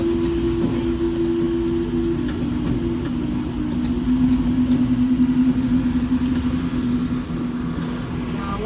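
Universal Studios Hollywood studio tour tram rolling along with a steady rumbling drone and a faint whining tone, continuous and fairly loud, with no talk.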